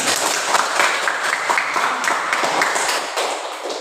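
Students in a classroom clap together in a dense, lively round of applause that carries on steadily and fades slightly near the end.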